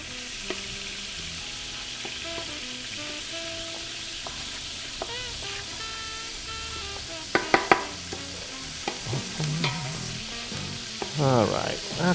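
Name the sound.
tomato paste cooking and being stirred into pork gravy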